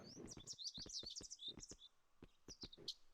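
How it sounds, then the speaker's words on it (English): Little birds chirping outdoors, a quick run of bright high tweets and short calls repeating in bursts, close and fairly clear with soft background noise. "these are little birds outside"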